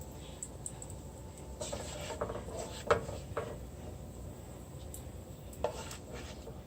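Bacon lifted out of a skillet, soft metallic clinks and scrapes of utensils against the pan over a faint background hiss, several sharp taps spaced out, fairly quiet.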